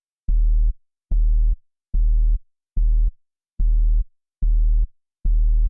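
Sub bass sample from a tearout drop, seven short deep sine-like notes pulsing in an even rhythm with clean gaps of silence between them, loud and isolated.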